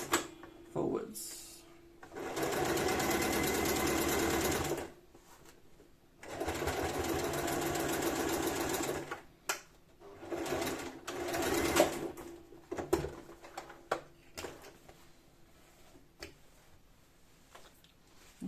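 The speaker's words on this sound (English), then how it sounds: "And then we stitch the bottom closed." A sewing machine stitches the bottom of a fabric bottle carrier in two long, steady whirring runs with a pause between, followed by shorter bursts and light clicks.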